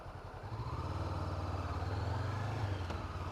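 Honda CB500F motorcycle ridden through a city at night, its engine a steady low droning hum with wind rush, continuous and close throughout.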